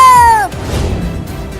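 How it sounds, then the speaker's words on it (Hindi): A cartoon cat gives one loud, drawn-out meow that slides downward for about half a second. Lower, quieter background sound follows it. "अरे वो बिल्ली मुझे रोकने के लिए क्यों बोल रही है?"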